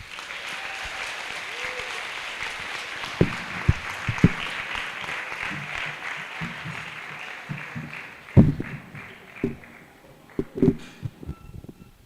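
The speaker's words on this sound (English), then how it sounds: "with an arousing applause, please make welcome our guest speaker, Mr. Desmond Dennis." Audience at a school prize giving and awards ceremony applauds to welcome a guest speaker, steady dense clapping throughout with a few louder sharp claps and thumps standing out near the end, no talk.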